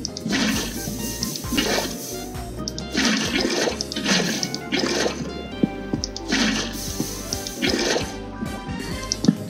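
Swimming through water in a Minecraft-style game while wearing diamond armor, heard as repeated rushing, sloshing splash bursts in a steady rhythm, fairly quiet with no talk over them.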